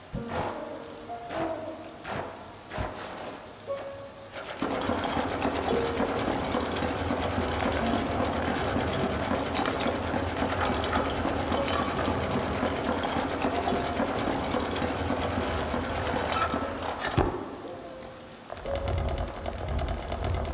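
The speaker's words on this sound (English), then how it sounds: "It's so weird having this right next to the elevator here, but I guess it's just a basic elevator" Elevator machinery in the dark puzzle game INMOST, a steady, loud mechanical whir and rattle that starts after a few scattered clicks and knocks, runs unbroken for about twelve seconds, then stops abruptly, with no one talking.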